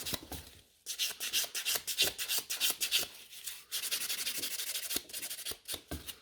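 Nail file working over natural fingernails and the nail fold during a manicure, quick rhythmic rasping strokes in short bursts with a brief pause, close and fairly quiet, no voices.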